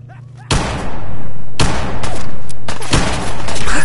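Gunfire in the video game Fallout 4, loud bursts of shots in three separate volleys with sustained crackling between them, no talk.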